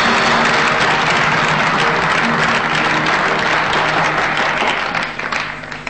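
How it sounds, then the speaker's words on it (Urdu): A television studio audience at a Pakistani quiz competition breaks into loud, dense applause for the two contestants, holding steady before tapering off at the end. "آپ ان دونوں کے لیے تو ایک دفعہ تالی ضرور بجائیے"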